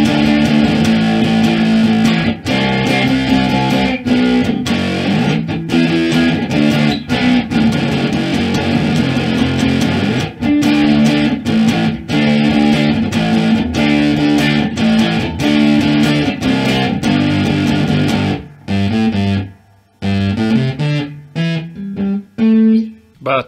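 Distorted electric guitar played through a small amplifier with a distortion pedal, loud and continuous with sustained chords and quick choppy stops, ending in a few rising picked notes.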